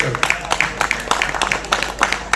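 A children's audience at a storytelling performance claps in short, uneven bursts, with scattered hand claps rising and falling over a steady low hum rather than a full sustained ovation.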